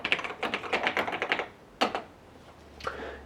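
Bursts of rapid keystrokes on a computer keyboard while configuring MS-Kermit 3.16 beta on an old PC, a quick run of clicks, a pause, then a couple of isolated key taps, close and fairly quiet.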